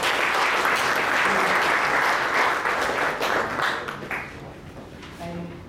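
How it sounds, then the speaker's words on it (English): Seminar audience gives a sustained round of applause indoors, a dense clatter of many hands that gradually thins and fades, with a few scattered claps and faint voices trailing at the end. "Please give him a big round of applause."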